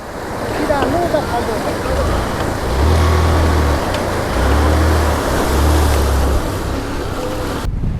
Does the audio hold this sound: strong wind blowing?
yes